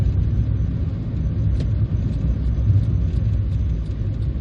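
A 1999 Hyundai Lantra 1.6 Remo drives along steadily, its engine giving a continuous low, even rumble with road noise throughout and no talking over it.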